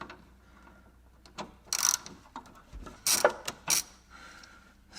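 A socket ratchet undoes a bolt in the engine bay of a Jaguar S-Type, close, sharp clicking bursts in a few short runs separated by pauses, quiet between, with no talk.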